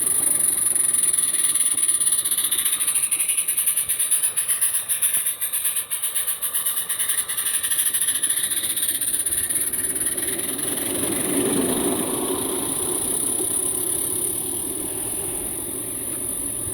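A steam locomotive climbs a steep grade toward the listener, with a continuous loud hiss of steam and working engine noise that swells and builds as it nears.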